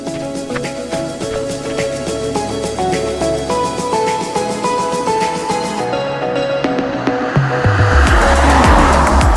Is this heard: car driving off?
yes